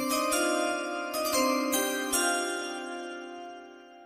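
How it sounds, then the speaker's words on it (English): Chimes ring out in a few struck, overlapping tones that sustain and slowly fade, clear and alone without talk, marking a pick announcement during an NFL mock draft. "So play the chimes."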